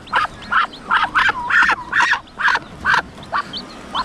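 A brooding duck sitting on its eggs quacks about ten times in a rapid, evenly spaced series of loud, nasal, raspy calls close by, alone without talk.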